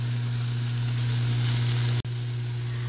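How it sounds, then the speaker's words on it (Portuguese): Cubed calabresa sausage and finely chopped small onion fry in a pan with no oil, giving a steady close sizzle over a low hum, with a brief break near the end. "aqui em uma panela eu tenho um gomo de linguiça calabresa que eu cortei em cubinhos e uma cebola pequena picada"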